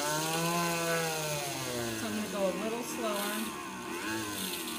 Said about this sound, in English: I want to slow the flex shaft down a little bit so I don't damage the other side of the stone as I'm drilling